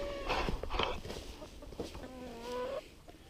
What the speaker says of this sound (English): Well, here's the chickens.